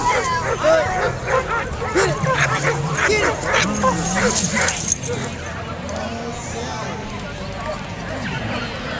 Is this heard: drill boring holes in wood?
no